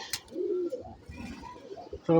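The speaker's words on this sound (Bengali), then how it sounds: "কবুতরগুলো ছাড়তেছি" Pigeons coo softly nearby in short, throaty bursts as they are released from a rooftop loft, with a brief sharp noise at the start and a louder rustle at the end.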